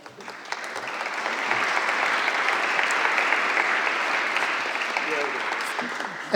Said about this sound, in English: I will ask you to give a last round of applause for our speakers.